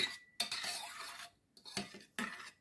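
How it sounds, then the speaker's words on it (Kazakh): Water, eggs, sugar, salt and yeast get mixed in a bowl for a pumpkin pie dough, a spoon scraping and clinking against the bowl in three short bursts separated by brief quiet gaps. "Осыларды әбден араластырып аламыз."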